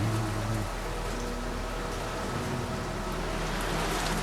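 Steady rain falls in Tashkent during flooding, a dense even hiss that continues without a break. A faint low hum sits underneath.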